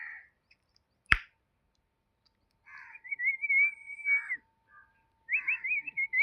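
A person whistles a parrot-like call outdoors by a river in a quiet rural setting near Pune, and crows answer with wavering caws and whistles. A single sharp snap comes early, then a series of moderately distant calls.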